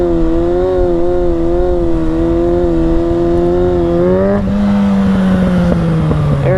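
A Kawasaki 636 sport motorcycle revs hard on the handbrake and launches: a loud, steady engine drone that climbs in pitch, dips at the shift, then pulls again, close and alone with no talk.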